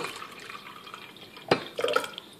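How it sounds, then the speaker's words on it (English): Water drips and trickles from the tap of a pressurized wine barrel dispenser, a few distinct splashy drops and a short burst of pouring into a container, close by over quiet background hiss. "It's a wine barrel water dispenser."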